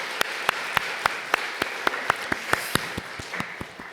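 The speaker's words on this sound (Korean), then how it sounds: "우리 이 시간 우리 찬양 받으신 하나님께 영광의 박수를 같이 한번 올려드리겠습니다" Congregation at a Korean Sunday church service clapping in unison, sharp regular beats about three per second over a softer bed of scattered claps, moderately near.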